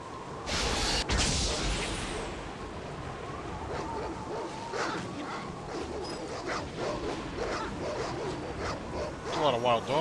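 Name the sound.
wild dogs barking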